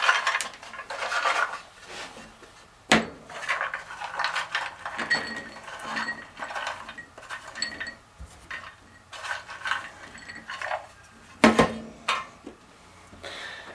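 Chopped walnuts and pecans stirred together in a bowl for banana nut bread, giving irregular clinks and scraping rattles of utensil against dish, close and fairly quiet, alone with no talking.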